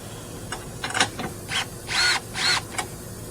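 Tool clicking and ratcheting against a battery terminal clamp while it is tightened on a 2013 Honda CR-V, short bursts of metallic mechanism noise in an irregular rhythm, close and moderately loud, with no talking.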